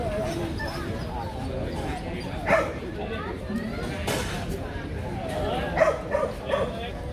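Dogs of Vietnamese native breeds, Phu Quoc, Mong Coc and Bac Ha, bark at a breed show. Scattered single and clustered barks rise over constant crowd chatter and voices.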